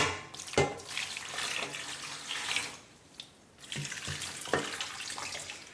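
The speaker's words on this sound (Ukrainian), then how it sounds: "Ось капуста остигла і я заливаю її маринадом." Liquid marinade at room temperature pours steadily over cooled shredded cabbage with a continuous splashing, gurgling flow, briefly broken by a pause and a few soft knocks, quiet and close.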